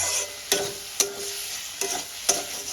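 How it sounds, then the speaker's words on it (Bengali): Potatoes and fish being stir-fried with spices in a pan, a steady sizzle broken by four sharp scraping strokes of the spatula spaced about half a second apart, close and fairly loud with no talking. "মশলাগুলোর সঙ্গে আলুগুলো দিয়ে খুব ভালো করে আমি কষাতে থাকবো"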